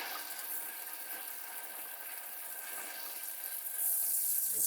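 Fluidmaster bidet toilet seat spraying water, a steady close hiss of running water that continues evenly throughout and swells slightly near the end.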